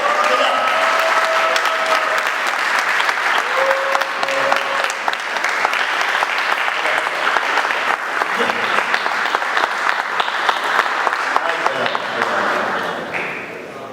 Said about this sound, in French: Il vous entend un tonnerre d'applaudissements pour lui quand même